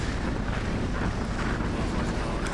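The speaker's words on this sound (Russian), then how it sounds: "нас дорога встречает сразу с пронизывающим ветром" Cold, piercing wind on an open road in Mongolia, a dense, loud roar buffeting the microphone without letup.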